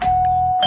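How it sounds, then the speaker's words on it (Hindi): A doorbell chimes inside a house in a video game, a single loud sustained tone ringing steadily throughout. "मुझे घंटी की आवाज आई है"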